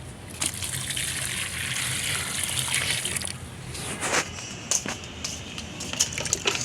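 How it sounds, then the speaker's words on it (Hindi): Water poured from a bucket onto potted plants gushes and splashes steadily up close, ending in a few scattered drips and clinks. "जिस पेड़ पौधों में पानी नहीं है उस पेड़ पौधों में पानी डाल देती हूँ"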